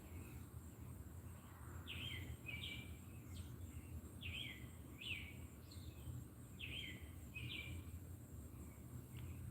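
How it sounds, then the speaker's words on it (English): Repeated bird chirps in short bursts over a steady low rumble, several calls spread across the clip at moderate distance. "Tweety birds are all waking up."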